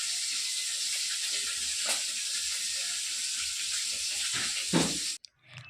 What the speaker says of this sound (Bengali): এবার মাছগুলো আমি তাই ভেজে নিচ্ছি।